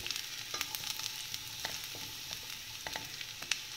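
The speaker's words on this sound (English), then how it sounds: "The oil is nice and hot. I am adding the finely chopped garlic to this. I'm sauteing the garlic." Chopped garlic sizzles and crackles in hot oil in a pan, a steady close frying hiss with scattered sharp pops, and no voices.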